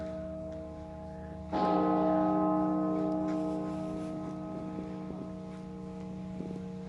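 Christmas day tower bells ring at Bok Tower, a single deep gong-like strike that blooms with rich sustained harmonics and slowly decays, followed by faint further tones under light outdoor wind.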